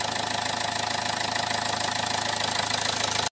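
A car engine idles as it warms up after a No Leaky head-gasket sealant treatment, holding a steady rhythmic low throb with a faint knock before cutting off abruptly at the end.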